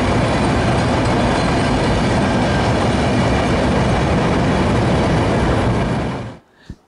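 An intercity train crosses the Jamuna rail bridge in Bangladesh with a loud, steady rumble and rhythmic clatter of wheels on rails for about six seconds, then fades abruptly, leaving a brief knock.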